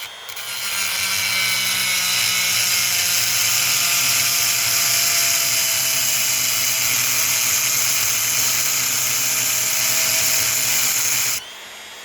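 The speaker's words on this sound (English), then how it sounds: "So what we're going to do is we're going to put a little groove in there using a Dremel tool." A Dremel rotary tool cuts a groove into the screw of a Yamaha ignition switch during locksmith work, giving a loud, steady high-pitched grinding whine for about eleven seconds before cutting off abruptly.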